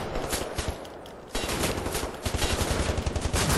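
Dense, continuous gunfire from a shooter game set in an alternate-history war, rapid automatic bursts that grow louder and heavier after a short lull, with no talking over them.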